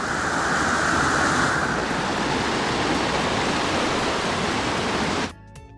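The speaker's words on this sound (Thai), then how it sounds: "นี้นะจ๊ะน้ำตกกินารีค่ะไปเดินเดินไปดูใกล้ๆเนาะ" Steady, loud roar of rushing water close by at Kinnaree Waterfall, a tiered waterfall in Phu Langka National Park, Bueng Kan, Thailand, a continuous broadband wash that cuts off abruptly near the end.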